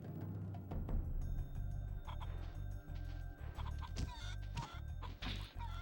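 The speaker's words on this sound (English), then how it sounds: "You can abuse chickens?" Chickens in the Spyro video game cluck repeatedly in short choppy bursts over steady game music, with a few sharp louder squawks near the end and no voices.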